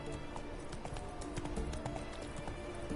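Hooves of Roach the horse trotting steadily in the video game The Witcher 3, a continuous clip-clop rhythm at moderate volume with faint ambient background.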